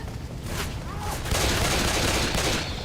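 Rapid gunfire crackles in a zombie shooter game, Left 4 Dead 2, a dense, continuous burst of shots with bright cracks and steady noisy energy, with faint voices mixed in.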